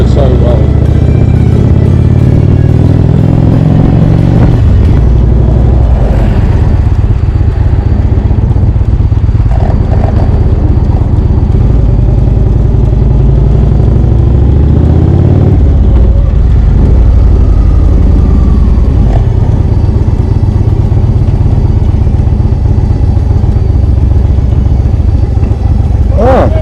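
An Indian motorcycle cruises along a road in Scotland, its engine a steady close drone with wind rush throughout, occasional shifts in pitch as it accelerates, while a rider talks over it.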